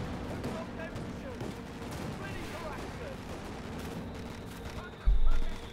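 Gunfire from a video game battle in Company of Heroes 2, German OKW against British forces, rattling as a steady dense backdrop of machine gun and weapons fire, with a louder burst near the end.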